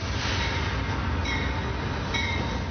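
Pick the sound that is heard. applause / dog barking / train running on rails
train running on rails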